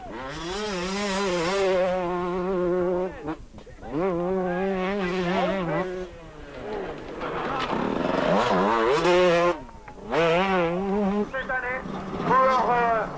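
Rally motorcycles at a 1999 event, including a 125cc machine, rev and scream past, rising and falling in pitch as they accelerate, with brief lulls between passes and a commentator's voice heard over the engines.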